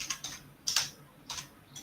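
A computer keyboard clicks as a command is entered in a networking lab, with several light, close keystrokes in an uneven rhythm and no voices.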